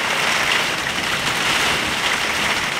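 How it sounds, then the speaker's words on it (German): Loud, steady roar of wind-driven storm rain around a tiny house, a dense continuous hiss with no breaks, close and enveloping. "das ist halt sehr windig."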